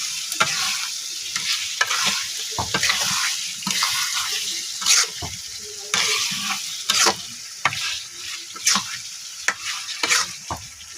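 Meat for curry frying in a pan, a strong close sizzle broken by repeated sharp stirring and scraping strokes at an irregular rhythm, with no talking over it.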